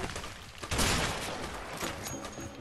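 Gunfire in the video game A Way Out, a dense continuous burst of shots and booms, loud and close, filling the short stretch without pause.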